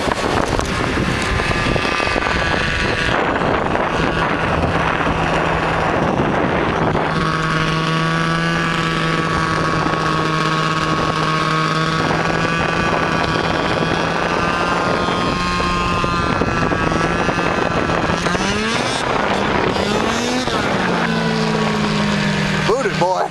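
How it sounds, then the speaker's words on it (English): Snowmobile engine droning on a ski slope at White Pass ski area, loud and continuous with rising and falling pitch, under heavy wind rush and a speaking voice. "Let's see if we can catch the snowmobile."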